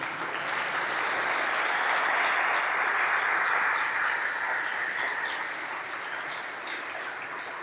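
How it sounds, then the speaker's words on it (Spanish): Congregation applause rises during a Spanish-language Christian church sermon, a dense, steady wash of many hands clapping that holds strong for several seconds before easing slightly toward the end. "Le damos un aplauso a Él."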